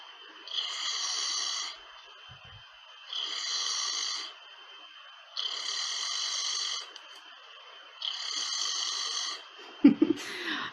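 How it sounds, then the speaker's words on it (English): A cow snoring in four long, evenly spaced rasping breaths, each lasting about a second and a half with short pauses between them. The snores are fairly loud and close, and a brief thump sounds at the end. "Here's a cow snoring."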